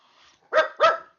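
A small black dachshund gives two sharp, close barks in quick succession after a faint lead-in sound, with no talk over them.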